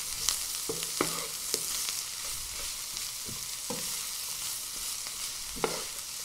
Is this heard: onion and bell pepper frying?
yes